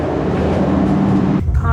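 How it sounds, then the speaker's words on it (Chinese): A small tourist train runs at Chaka Salt Lake in Qinghai, giving a steady, loud rumble with wind noise that drops off sharply near the end. "坐火车体验茶卡盐湖"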